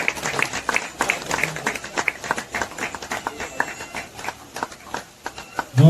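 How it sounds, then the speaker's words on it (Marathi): Scattered, uneven applause from an audience at a Sai Baba temple renovation celebration, individual claps audible in bursts that rise and thin out over several seconds. "जोरदार टाळ्या होऊन जाऊ दे. चालूच राहू दे टाळ्या."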